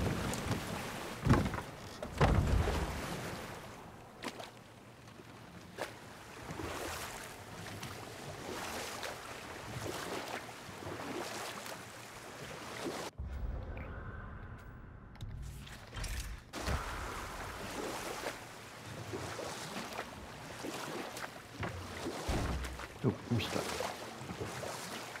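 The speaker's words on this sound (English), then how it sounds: "And back on the boat." A boat gliding over water in the God of War video game, a soft wash of water and wind under intermittent game effects, with a short near-silent gap partway through.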